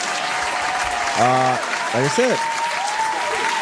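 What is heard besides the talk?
round of applause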